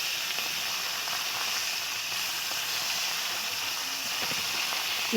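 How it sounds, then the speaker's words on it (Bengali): Pieces of rui fish fry gently in oil, giving a steady, unbroken sizzle at close range with faint crackles underneath. "দেখো তো খুব একটা কড়া করে ভাজছি না"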